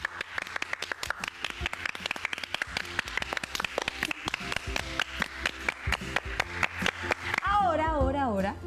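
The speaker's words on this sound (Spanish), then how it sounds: "Ahora aplaudimos fuerte como si nos hubiéramos emocionado por un gran espectáculo." Loud, fast hand clapping from a group in a primary-school home lesson, a dense run of sharp claps like applause after a great show, with a voice speaking over the clapping near the end.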